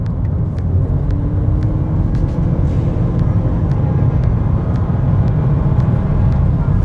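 A Lexus UX Hybrid accelerating, heard from inside as a steady, loud low rumble of engine and road noise with a faint rising tone, continuous throughout with no talk.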